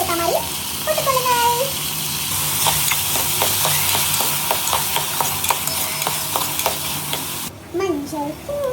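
Chopped tomatoes frying and sizzling in a pan of sambar, with steady crackling and stirring scrapes throughout, close and fairly loud, cutting out briefly near the end; faint background sounds but no clear talk.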